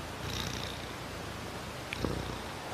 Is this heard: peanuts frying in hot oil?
no